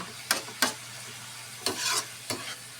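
Chicken cubes being stirred in a frying pan while making creamy mushroom chicken, with four scraping stir strokes over a soft, steady sizzle, close and fairly quiet.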